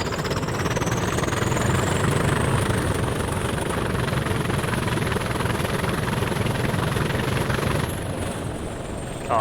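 A Class 20 diesel locomotive in Train Simulator Classic revs hard, its engine a loud, steady droning roar held for several seconds before easing slightly near the end, with no talking.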